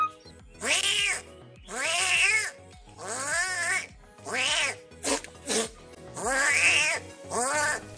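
A voice mimics cats, drawn-out meows and rising yowls like a cat fight, seven or so calls in a row, close and clear.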